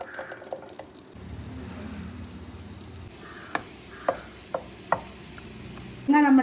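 Chilli-spiced prawns and chopped long beans sizzle in a pan, a steady frying hiss broken by several sharp scraping stirs and clinks of a spoon against the pan.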